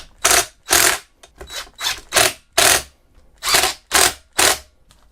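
Ratcheting wrench tightening bolts on a ThunderX3 Core gaming chair during assembly, about nine crisp ratchet bursts in an uneven rhythm, loud and close with brief quiet gaps between them.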